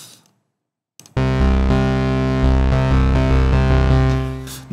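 Deep synth bass plays a slow line of sustained notes after a short pause, thick and shimmering with a gentle chorus wobble.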